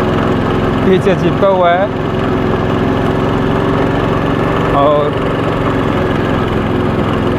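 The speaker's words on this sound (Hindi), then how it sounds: "मैं अभी बाइक चला रहा हूँ।" A motorbike engine drones steadily while being ridden on a hot day, a constant close rumble that runs under someone talking throughout.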